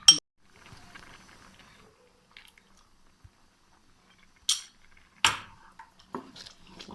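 A spoon clinks and scrapes in a pot as dried fruit and nuts (coconut, cashews, walnuts, raisins, almonds) are mixed into carrot kheer, with a few sharp knocks and soft stirring sounds between quiet pauses.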